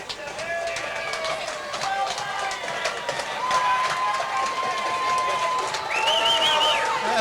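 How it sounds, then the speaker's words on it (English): A crowd cheers and roars in the stands at a Londonderry versus Nashua North high school football game, a steady swell of broad noise with whistles and shouts, while an announcer talks over it. "That's the biggest cheer of the night, folks."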